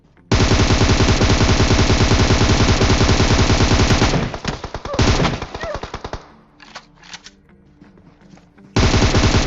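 Rapid full-auto Beryl rifle fire in a video game rattles off in a long sustained burst, then breaks into choppier shots and scattered cracks before another burst starts at the end.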